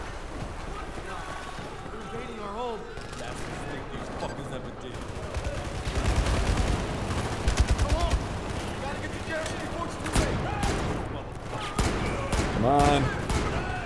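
Rapid gunfire and machine-gun bursts in the Battlefield 4 campaign aboard the boarded USS Valkyrie ship, loud and close in repeated volleys with explosions, with someone talking over the fight.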